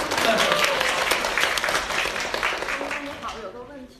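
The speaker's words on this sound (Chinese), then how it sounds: "大家给个掌声吧" A seated audience breaks into warm applause that builds quickly, holds as a full, steady clatter, then thins and fades out at the end, with speech faintly mixed in underneath.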